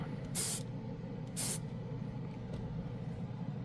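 Ultralumen chrome paint sprayed from a can in two short bursts of hissing spray, close and distinct, over a steady low background hum.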